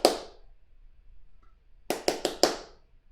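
Bare hands clap the opening rhythm of Beethoven's Fifth Symphony: one sharp, close clap, a pause, then a quick group of four crisp claps, all in a quiet room.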